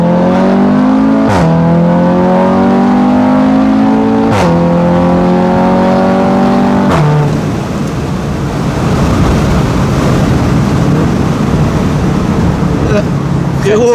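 An Audi RS3 engine revs loudly and climbs through its gears as the car accelerates hard, with two or three sharp shift breaks before settling into a roaring, noisy run.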